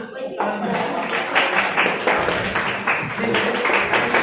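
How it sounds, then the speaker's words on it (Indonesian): A classroom of students claps their hands in a brisk, continuous round of applause during a lesson on static electric charge, with voices mixed in. "Silakan beri tepuk tangan"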